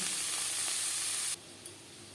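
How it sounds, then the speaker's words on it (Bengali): Chopped onions, cut fairly large, sizzle lightly in a pan for a Lote fish fry, a steady broadband hiss that cuts off abruptly partway through, leaving quiet room tone with a faint clink. "পেঁয়াজ আমি হালকা করে ভেজে নেব"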